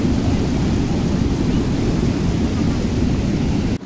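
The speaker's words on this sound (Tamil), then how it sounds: "எவ்வளோ ஃபோர்ஸாக தண்ணி போகுது பாருங்க." Water rushing forcefully at the Thirukovilur dam, a loud, dense, steady roar with heavy low rumble, very close and unbroken, cutting off abruptly at the end.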